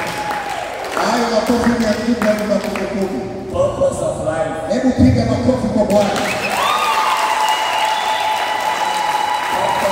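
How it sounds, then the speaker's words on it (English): A congregation claps throughout a church discipleship gathering in Tanzania, a steady wash of hands that stays under someone speaking over it. "Give a clap for Jesus."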